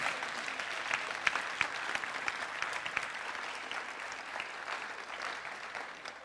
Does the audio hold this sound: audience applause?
yes